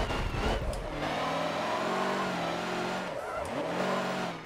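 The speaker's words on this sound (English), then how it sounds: "It's really interesting driving these trucks." A truck revving in Forza Motorsport 7, its engine pitch climbing and falling in sweeping harmonic arcs with a brief tyre squeal, loud and continuous throughout.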